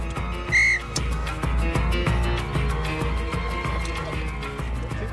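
A single short, sharp whistle blast given as a signal during a wartime-style evacuation drill at a manor house cuts in near the start, loud over steady background music.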